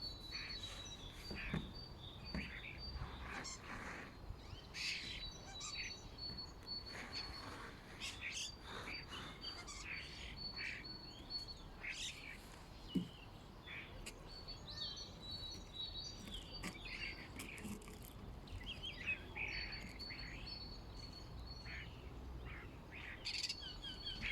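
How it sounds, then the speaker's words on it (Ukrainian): Mixed wild birds chirping and calling steadily throughout, with faint frog and insect sounds in the background and no voices. "Зараз давайте послухаємо спів пташок."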